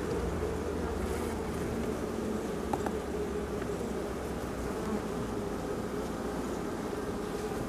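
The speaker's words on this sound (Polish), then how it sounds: "gdy jest troszkę pszczół w ulu, to rodzina pszczela jest w stanie to wszystko zapakować tak jak trzeba" A honeybee colony inside a wooden hive in late autumn gives off a steady, dense buzzing hum, close and unbroken throughout, with no talk.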